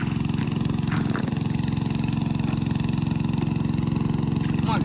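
An engine-driven pump runs steadily while pumping out water at a rural flooded spot in northeast Thailand, with a loud, continuous mid-pitched engine drone and no break in the rhythm throughout.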